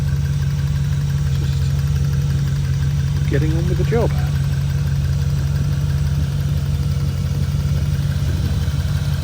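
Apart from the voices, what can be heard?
Land Rover Defender 4-litre V8 engine idling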